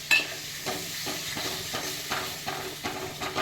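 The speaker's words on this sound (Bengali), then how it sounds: "এবার আমি ভালো করে একটু কষিয়ে নেব এবার একটু আদা ইয়ে টমেটো বাটা দিয়ে দিলাম" Ginger and tomato paste sautéed with spices in a pan for a vegetarian potato curry, sizzling steadily under rhythmic spoon scrapes that come roughly every half second, close and clear.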